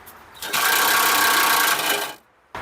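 An impact wrench loosens the transmission shift solenoid bolts on a 2006 Honda Element: one sustained, close, buzzing rattle of roughly a second and a half that rises sharply and then stops, with quiet shop ambience before and after.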